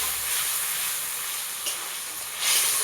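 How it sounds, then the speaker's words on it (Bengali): Spice paste frying in a pan for a Bengali rui fish curry with elephant foot yam, a continuous soft sizzle and hiss with a brief stir and a louder burst of sizzling at the end. "এবার ভালো করে মশলাটা কষে নেব"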